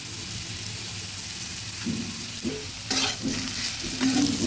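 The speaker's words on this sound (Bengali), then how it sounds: "হালকা আঁচে আলুগুলো ভেজে নিলাম" Small-cut potato pieces with salt and turmeric fry over low heat in a pan, a soft continuous sizzle broken by spatula stirs and scrapes that grow busier toward the end.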